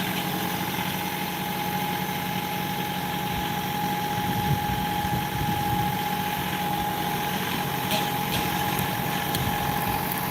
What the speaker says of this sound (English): We're gonna let the tractor do the work because it can.